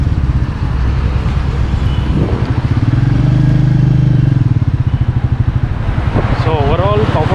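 A 2020 Royal Enfield Meteor 350 BS6 motorcycle's engine runs steadily while riding, a close, even low drone with a rise and fall in pitch mid-way.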